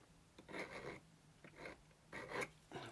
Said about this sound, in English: I'm going to use this handy little file just to modify the spectacles screwdriver a little bit